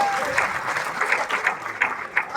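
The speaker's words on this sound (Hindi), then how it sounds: "ताली कम बजा रहे, एक बार थोड़ी बजाओ।" An audience at a Hindi poetry recital (kavi sammelan) claps steadily, a dense patter of applause with a few sharper individual claps standing out near and far, with no talk over it.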